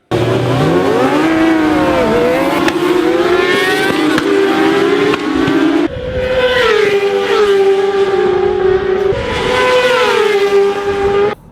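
Racing motorcycles at Knockhill circuit in Scotland scream past loudly and close, engines rising and falling through gear changes in a continuous layered drone.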